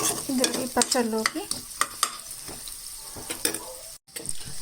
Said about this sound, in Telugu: నెక్స్ట్ ఆనియన్స్ కూడా ఇలా కొంచెం వేయించుకుంటే బాగుంటుంది